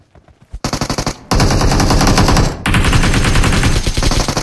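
Rapid automatic gunfire in the PUBG Mobile video game, loud and close, with sustained bursts broken by short gaps and a few trailing shots.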